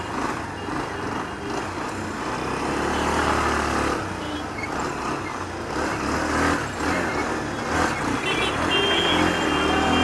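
Motorcycle riding along a road in Kashmir near Dal Lake, with a steady engine drone and road and wind rumble throughout, close and fairly loud, with no talking.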